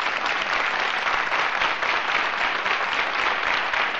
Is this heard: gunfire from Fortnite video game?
no